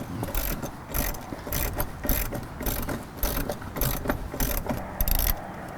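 A hand ratchet works a stubborn bolt free from a Revel running board bracket, its clicking pawl sounding in a steady, close run of quick strokes repeated throughout, with no talking.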